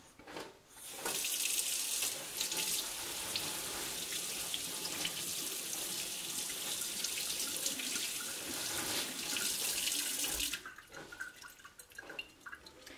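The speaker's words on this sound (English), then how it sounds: "I'm going to rinse that in cold water" Cold tap water runs steadily into a sink while a piece of raw fat is rinsed, a continuous close hiss and splash lasting about ten seconds before cutting off.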